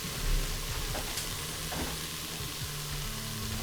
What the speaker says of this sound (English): it is not necessary to fully brown your hamburger since we are going to also be baking it